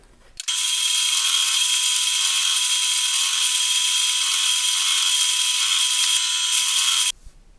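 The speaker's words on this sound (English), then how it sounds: "get those to the drill press and put a 6mm recess in" A steady, high-pitched whine of a drill press cutting a 6mm recess into a bass guitar part, continuous for about seven seconds before stopping abruptly.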